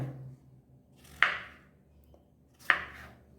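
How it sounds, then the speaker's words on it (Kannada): A knife chops breadfruit into big pieces on a board, making two sharp, close chops about one and a half seconds apart with quiet pauses between them. "ದೊಡ್ಡ ದೊಡ್ಡ ತುಂಡು ಮಾಡ್ತಾ ಇದ್ದೇನೆ ನಾನು"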